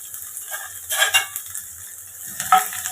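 Curry leaves and finely chopped small onion frying in oil for a traditional bottle gourd palya, a soft continuous sizzle broken by a couple of louder spatula stirs against the pan, close and without speech.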